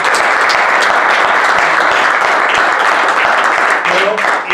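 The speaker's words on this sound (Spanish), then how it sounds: "Yo os pediría un aplauso para él." An audience at a scientific debate on artificial intelligence breaks into dense, loud applause that carries steadily through before starting to thin out.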